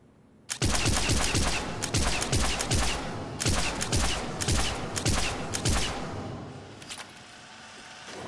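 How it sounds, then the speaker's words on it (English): Rapid bursts of arc pistol fire in Mass Effect 3 at mid-range, crackling shots in quick clusters with brief gaps, loud and close, continuing for several seconds before tapering off. "Huge improvement at mid-range. All shots on target."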